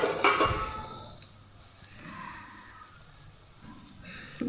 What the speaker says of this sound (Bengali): একটু ভালো করে তেলের মধ্যে একটু আদাটা ফেলিয়ে দিচ্ছি